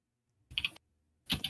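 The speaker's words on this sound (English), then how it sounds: "We can hear you typing." Computer keyboard typing comes through in two short clusters of quick, crisp key clicks, fairly close and loud, separated by a moment of near silence.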